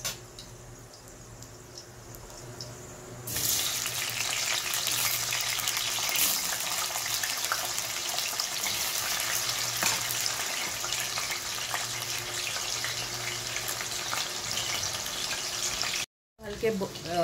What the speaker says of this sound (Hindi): इसी तेल में मैं पोटैटो फ्राई करूँगी।